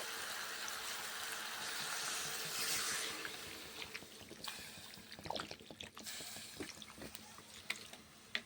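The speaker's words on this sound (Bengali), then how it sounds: "এবার দিয়ে দেব জল" Water pours into a pot of chicken stew over fried vegetables and meat as a soft rush for a few seconds, followed by scattered clinks and light stirring sounds.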